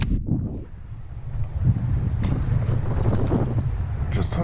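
Strong wind blusters across a lake during kayak bass fishing, a steady low buffeting roar right at the microphone with faint water sounds mixed in.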